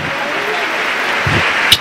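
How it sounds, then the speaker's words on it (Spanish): A crowd applauds at the 2nd International Congress of Education in Tucumán, 2018, as a steady, dense wash of clapping that holds at an even level throughout, with a brief sharper burst near the end. "Fuerte los aplausos."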